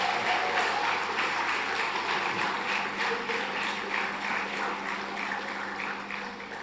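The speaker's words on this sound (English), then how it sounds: "And can we give a round of applause for the graduating class of" Broad, steady applause from a seated audience at a primary school graduation ceremony, a dense wash of many hands clapping continuously that tapers slightly toward the end.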